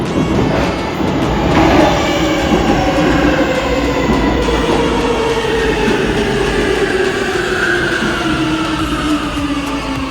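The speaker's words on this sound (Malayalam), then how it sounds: "അപ്പോൾ നമ്മൾ മെട്രോ സ്റ്റേഷനിൽ നമ്മൾ എത്തിയിരിക്കുന്നു" A metro train at a station in Poland, loud and close, with a continuous rumbling roar of wheels on rails and rising whine as it moves through, no voices.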